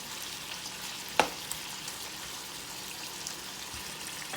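Shrimp and vegetables sauté in a Power XL electric cooker, giving a steady, faint frying hiss with one brief clink or stir sound near the start.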